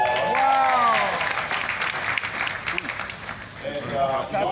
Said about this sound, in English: Let's give Yvonne Tapia a round of applause